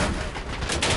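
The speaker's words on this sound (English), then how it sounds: "I'm gonna stop shooting at you now" Gunfire in the World War II shooter game Enlisted, a dense continuous burst of close shots filling the whole second with no pause.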